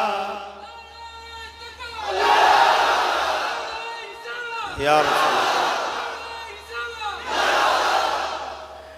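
A large crowd at a Bengali Islamic waz sermon shouts Subhanallah together in loud, swelling bursts that rise and fall several times, each roar echoing through the gathering.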